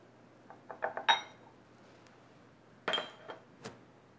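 Creamy peanut butter, sugar and vegetable oil go into a mixing bowl with a few quiet clinks and taps of utensil against dish, two short clusters separated by a pause.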